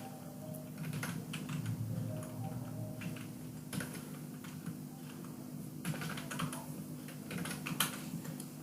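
Numbers are typed into a computer spreadsheet on a keyboard: a steady run of quiet, close key clicks over a low electrical hum, with no talking.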